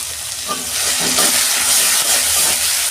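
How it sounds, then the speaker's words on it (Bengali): Spiced ridge gourd and potato sautéing in a pan with turmeric and chili, a steady loud sizzle with stirring scrapes running throughout, close and without talk. "দু মিনিট আমি কষতে নেব এটা"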